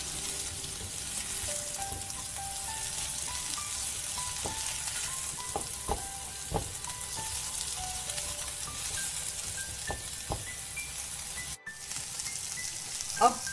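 Vegetables for veg chow mein sauté in a hot pan, a steady broadband sizzle running throughout with occasional sharp clicks and scrapes of stirring utensils, fairly close with no talking.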